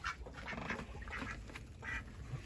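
A domestic goose brooding on its nest gives a run of low honking, quacking calls, close and fairly soft against a steady background hiss, with no voices.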